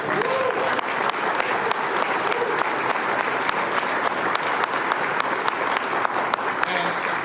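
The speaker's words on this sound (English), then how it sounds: "That is worth a round of applause." Sustained applause from an audience, a dense, steady patter of many hands clapping at even loudness throughout with no break.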